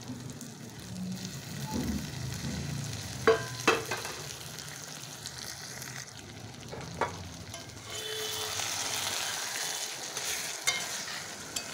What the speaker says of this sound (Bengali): এবার ডালটা এতে ঢেলে দেব।